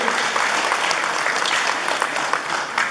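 Loud, continuous applause from an outdoor crowd at a school ceremony in Naupan handing over a roof structure for a high school, dense clapping sustained throughout.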